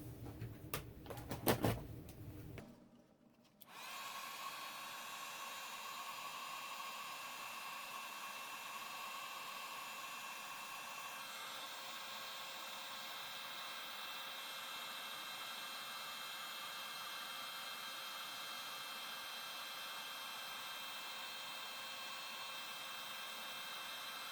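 An embossing heat tool blows steadily to melt embossing powder on a stamped paper card with a snow crystal design, a continuous airy whir lasting over twenty seconds after a brief clatter at the start, with no talking.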